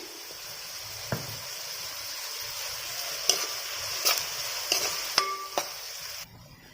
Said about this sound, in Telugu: ఉల్లిపాయలు కూడా బాగా మగ్గినాయి కదండి